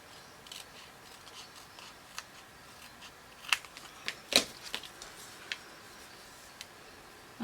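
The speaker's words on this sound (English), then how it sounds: "There's just these tiny little embroidery scissors." Tiny embroidery scissors snipping paper for a scrapbook page; a few soft, crisp cuts and clicks, some close together, against a quiet background.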